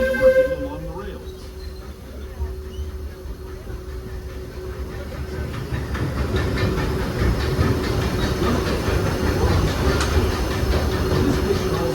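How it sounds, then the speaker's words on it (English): Disneyland Railroad train rumbling along its rails through a jungle-themed stretch, a steady low mechanical drone that swells louder in the second half, with a recorded announcer voice talking over it. "please remain seated until the train comes to a complete stop"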